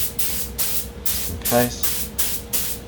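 Paint spray gun applying a third coat of paint to a car's panel, with steady repeated bursts of hissing spray in a regular rhythm, close and loud, with a brief voice in the middle.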